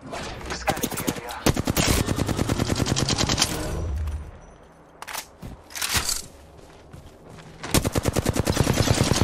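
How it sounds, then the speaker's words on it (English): Rapid automatic gunfire bursts from the video game Apex Legends, loud and close, with repeated volleys, a brief lull of scattered shots and crunching impacts, then sustained firing again near the end. "I'm getting shot"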